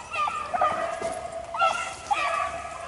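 Hunting dogs bay and yelp excitedly while chasing rabbits through woods, with several high, wavering cries that come in bursts at moderate distance against a quiet outdoor background.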